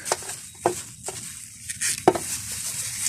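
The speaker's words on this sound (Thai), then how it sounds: "เราจะหั่นเป็นท่อน ๆเพื่อจะได้ปอกง่าย ๆ หน่อยนะคะ" A knife cuts an elephant foot yam stalk into pieces, giving a few sharp, separate chops with crisp snaps at irregular intervals, close and clear with no talking.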